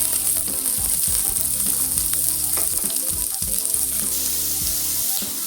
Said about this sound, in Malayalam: പൊടിച്ച് വെച്ചിരിക്കുന്ന വെജിറ്റബിൾ ചേർത്ത് നന്നായിട്ട് വഴറ്റും